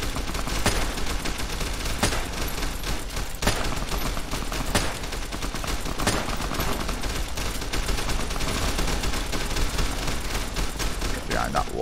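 Gunfire in the video game Fallout: New Vegas rattles in dense, repeated bursts over a steady background, some shots sharper and louder than others.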